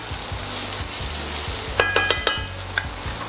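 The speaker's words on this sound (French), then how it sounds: "les échalotes, je vais les colorer un petit peu" Shallots browning in a pan for a Provençal chicken fricassee give a continuous close sizzle, with several quick metallic clinks of a utensil against the pan midway and no one speaking.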